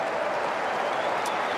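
A tennis crowd at Arthur Ashe Stadium applauds during a 2023 US Open second-round match, a brief, even wash of clapping filling the arena.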